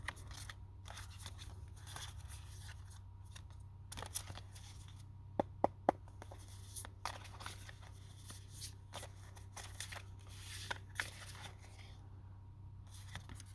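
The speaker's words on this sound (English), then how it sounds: "I'm going to shuffle that all again" Playing cards are shuffled and riffled by hand, soft papery rustling with several sharp snaps and flicks scattered across a quiet background hum.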